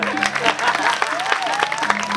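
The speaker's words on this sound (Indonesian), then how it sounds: "Patih Seteres Channel tepuk tangan." An audience claps at a comic Balinese Topeng Pajegan masked dance performance at the Pura Puseh temple in Tebongkang village; the clapping is dense and continuous, with a voice audible over it.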